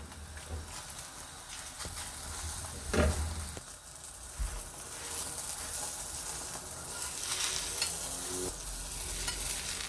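A roti stuffed with chole and keema fries in ghee on a hot griddle after being flipped. The close, continuous sizzle is broken by occasional scrapes and pats from a spatula.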